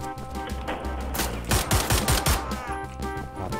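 Gunfire in Wolfenstein: The New Order: a steady burst of loud, rapid automatic shots, growing heavier and punchier in the middle with dense echoing bangs, then easing back to continued firing.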